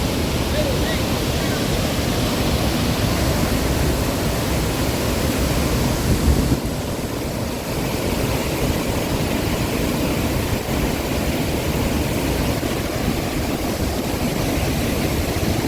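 Talasi Falls, a cascading waterfall running high with water, roars as a dense, continuous broadband rush, loud and steady throughout, with a brief dip in the middle.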